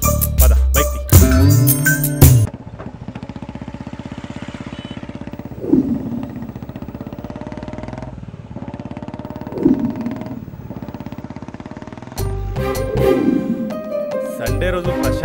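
A motorcycle engine revs in a few rising bursts at moderate distance, with a steady low rumble between them. Music plays at the start and end.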